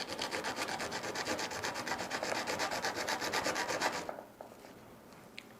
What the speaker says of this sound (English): We can do the same thing with the sandpaper.